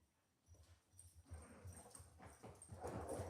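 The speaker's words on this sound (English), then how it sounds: "both got dogs that are thumping around" Dogs thumping around on a floor, a series of dull low thuds and scrabbling steps that grow busier and louder over a few seconds, fairly faint and with no talking.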